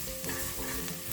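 Onion and carrots stir-frying with salt for an Egyptian orzo (lisan asfour) soup, a brief close burst of steady sizzling with light stirring scrapes, no voices.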